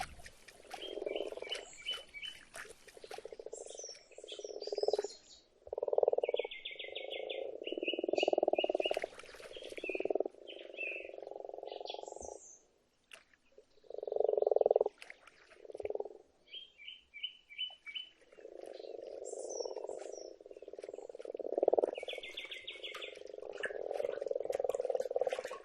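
Grass frogs at a mountain forest pond on a cold early-spring night croak in long, loud, overlapping bursts, close by, with thin high bird chirps scattered above them and brief quiet gaps between calls.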